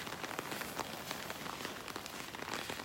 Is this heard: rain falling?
yes